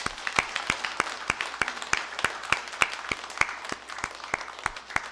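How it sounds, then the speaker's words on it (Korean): A church congregation applauds during a worship service, with distinct claps in a steady, fairly even rhythm at moderate volume and no talk over them. "우리 김태수 집사님 경찰 공무원 사명 잘 감당하실 수 있도록 우리 경찰 공무원들 위해서 한번 박수하겠습니다."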